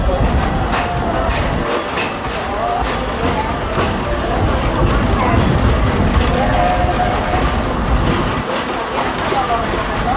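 A Walt Disney World Railroad train rolls along the rails with a continuous rumbling roar, rhythmic clickety-clack of wheels over joints and occasional metallic squeals, while a narrator speaks over the ride.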